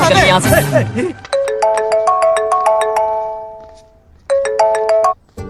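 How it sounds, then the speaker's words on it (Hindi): A melodic electronic phone ringtone chimes in repeating tonal phrases, pausing briefly before starting again, with a voice talking at the very start. "भैया, आपको किसी का फोन आ रहा है।"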